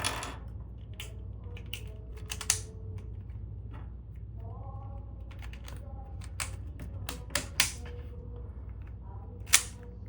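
A Waylon V10 speed cube is turned, testing corner cutting, sparse quick plastic clicks and snaps in scattered bursts, close and fairly faint, with a few sharper clacks.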